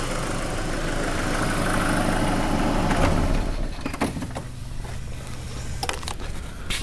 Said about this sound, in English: Let me just turn the car off quickly